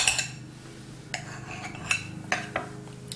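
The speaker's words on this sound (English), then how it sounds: "My spatula in there. If I could cut through it, that would be nice." A spatula cuts through a Greek frittata in a pan, giving a few sharp metallic scrapes and taps against the pan over a low hum, close and distinct.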